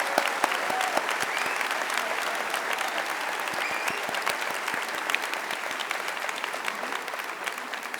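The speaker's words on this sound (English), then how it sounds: "Give yourselves a round of applause." Sustained applause from graduates at an economics undergraduate commencement ceremony, a dense, steady patter of many hands clapping across the whole stretch, fairly loud and even with no break.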